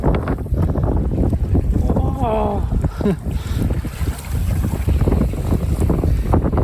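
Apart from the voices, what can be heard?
wind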